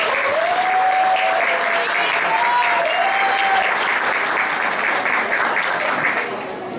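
A crowd at a Brazilian talent competition awards ceremony claps loudly and steadily, a continuous wash of applause with faint tonal sounds in the background, easing off near the end.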